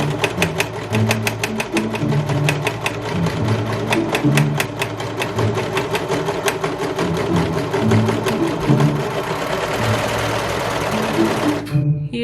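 A serger stitches steadily through four layers of fabric, a loud, continuous mechanical whir with rapid rhythmic needle clatter running unbroken for about twelve seconds before stopping at the end.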